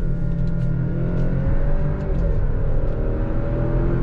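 A 2022 Alfa Romeo Stelvio sport SUV drones steadily in second gear under throttle, then settles through smooth downshifts under braking, with a continuous, loud engine hum and a few faint mechanical ticks on top.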